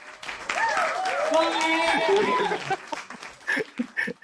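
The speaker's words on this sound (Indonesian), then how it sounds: "Tepuk tangan dong 40 perusahaan" An office group breaks into clapping mixed with whoops and excited voices, loud and close for about three seconds, then trailing off into a few scattered claps and chatter.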